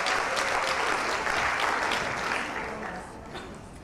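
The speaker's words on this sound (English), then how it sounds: "Equal applause for everyone, da?" A crowd claps steadily at a steampunk fashion show, the applause holding strong before gradually fading toward the end.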